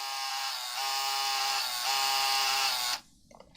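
A Game Boy Printer running as it prints a picture, giving a steady mechanical buzzing whir in three close, fairly quiet bursts with brief dips between, then stopping abruptly.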